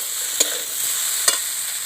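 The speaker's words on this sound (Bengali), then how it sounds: "সবগুলো একসঙ্গে একটু ভালো করে কষে নেব" Potato, okra and prawns stir-fried together in a pan, a steady sizzle with two sharp spatula scrapes against the pan, no talking.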